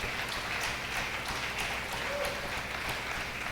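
A church congregation applauds, a steady dense wash of clapping at moderate distance with no break.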